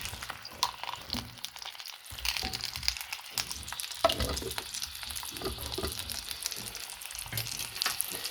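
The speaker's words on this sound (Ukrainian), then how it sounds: "і будемо смажити нашу ковбаску." Horse-meat sausage sizzles and crackles steadily in a hot pan, a dense continuous frying hiss with occasional sharper pops and stirring scrapes.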